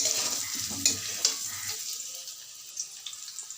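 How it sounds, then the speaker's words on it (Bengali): Fried potatoes are lifted out of hot oil in a kadai, a soft fading sizzle with a few light scraping clicks as the pieces come out, settling into a quieter hiss. "ভাজা আলুগুলোকে সব একটা বাটিতে তুলে রাখলাম"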